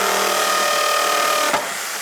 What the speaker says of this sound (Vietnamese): mời Phụng thử cái độ sắc bén cũng như là cái sức mạnh của máy khoan nha